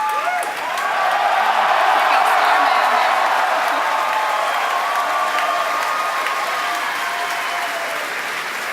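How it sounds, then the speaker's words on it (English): A crowd watching the Falcon Heavy rocket test flight launch claps, cheers and whoops in a loud, sustained roar that holds steady for several seconds, with voices mixed in. "if you could hear all that cheering, it was an outstanding test flight of the Falcon Heavy"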